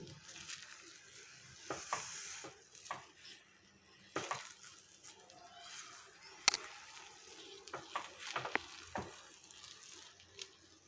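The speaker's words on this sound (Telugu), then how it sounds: "ఒకసారి మొత్తాన్ని కలిపేసుకుందాం" Wheat rava upma being stirred in a pot with a spoon, scraping and clinking against the metal in uneven bursts over a soft background sizzle, close and moderately quiet.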